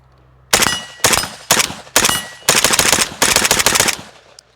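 An AK rifle with a 16-inch barrel fires Polish GROM ammunition in rapid bursts, six sharp, loud volleys of shots separated by brief pauses, very close and with no talking.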